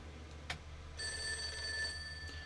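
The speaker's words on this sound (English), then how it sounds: "The phone is ringing." A telephone rings in the video game Persona 4: a short electronic bell-like tone bursts briefly, then a sustained bright ringing begins and holds, fairly quiet over a low background hum.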